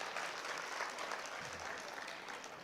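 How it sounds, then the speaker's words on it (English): An audience at a youth summit during a national youth festival applauds to welcome a speaker on stage, a steady, fairly faint wash of many hands clapping from a distance. "Let's have a huge round of applause and welcome our speaker for today."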